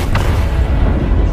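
An explosion in the film The Wandering Earth: a loud, deep boom rolls out in one continuous blast, heavy low rumble filling the short moment without any voices.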